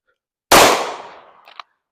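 A single sharp Glock pistol gunshot, loud and close, cracking suddenly and then decaying over about a second, followed by a faint metallic clink; no talking.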